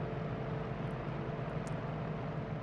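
A Yak-52 propeller trainer in the DCS flight simulator game drones with a steady, continuous engine hum as it levels off at 300 meters with RPM eased back to 82%.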